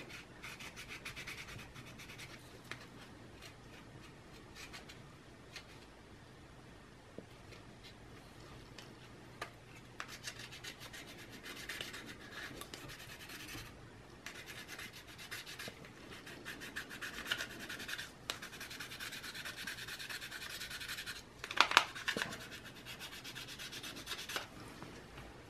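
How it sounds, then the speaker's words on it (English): A credit card scrapes old thermal compound off the heatsink of a Dell Latitude E6540 laptop, a continuous, faint, gritty scratching that goes on in uneven strokes, with a few sharper clicks near the end. "you're gonna take a credit card or debit card you have, and you're gonna scrape off the old thermal compound from the heatsink"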